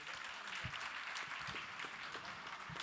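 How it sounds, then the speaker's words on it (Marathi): An audience claps for the musicians at an evening music concert, a faint, steady wash of applause with a few distinct closer claps, heard from a distance. "खरंच जोरदार टाळ्या सगळ्या वादकांसाठी झाल्या पाहिजेत."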